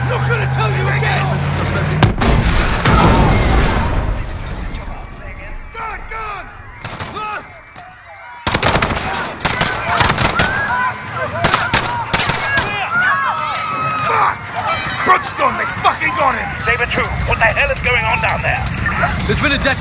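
Gunfire in Call of Duty: Modern Warfare's Piccadilly Circus mission rings out in sharp bursts and heavy blasts amid chaotic crowd noise, with people shouting over it.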